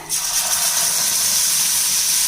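A loud, sudden hiss of ground tomato paste hitting hot oil, settling into a sustained, even sizzle.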